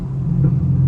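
A Chevrolet Camaro SS V8 burbles low and loud on a night drive, a deep steady rumble heard from inside the car for under a second.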